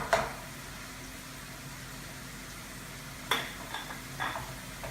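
Arugula and spinach sizzle in a hot pan with a steady, soft frying hiss, broken by a few light clinks of stirring, heard up close and with no one talking.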